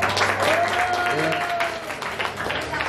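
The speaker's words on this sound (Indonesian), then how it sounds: "tepuk tangan buat Riga" Audience clapping for Riga as she is introduced among a production team, a sustained round of applause with a faint tone and some voice-like sounds mixed in.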